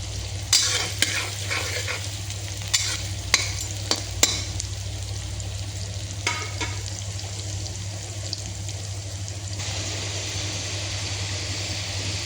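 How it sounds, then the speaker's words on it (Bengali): Spice paste for a rohu fish and sweet pumpkin curry sizzles and fries in a pan, a steady hiss under a low hum, with several sharp scrapes and clacks of a spatula stirring, no talking. "মশলা কষানো হয়ে গেছে"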